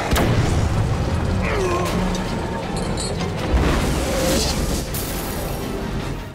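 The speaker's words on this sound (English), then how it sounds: "Oh, that's a lot of explosions" Explosions in the Batman Arkham City video game: loud, dense blasts and rumbling booms rolling continuously, layered over game effects, with one heavier low thump in the middle.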